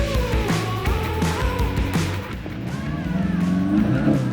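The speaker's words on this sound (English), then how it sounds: "Little wheel spin." VW Mk8 GTI with JB4 tuning spinning its tires at a drag race launch, a loud engine roar and squealing wheelspin rising in pitch, close by with no talk.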